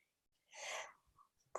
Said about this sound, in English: So I gotta sneeze.